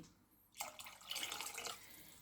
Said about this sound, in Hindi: 1 लीटर से भी थोड़ा ज़्यादा पानी डाल रही हूँ